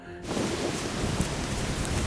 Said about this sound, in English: Right guys, it's raining, as you can see.